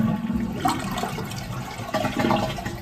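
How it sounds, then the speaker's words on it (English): A newly installed toilet in a cabin water closet flushes with a loud, close rush and gurgle of water lasting a few seconds. "you're hoping to flush the toilet"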